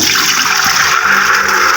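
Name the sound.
pouring soaked chickpeas and water into pressure cooker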